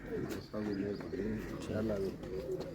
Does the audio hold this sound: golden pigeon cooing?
yes